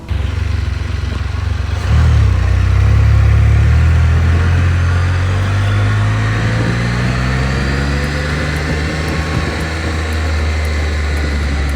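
Car engine idling and revving loudly up close as the car is driven into an enclosed car hauler trailer, a steady drone with a rising surge of throttle near the start.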